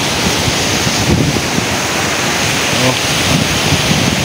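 Loud, steady roar of strong ocean surf crashing at a fish port in Cavite, heavy wind buffeting the microphone; a person briefly exclaims.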